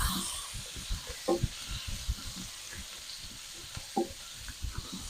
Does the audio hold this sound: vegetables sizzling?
yes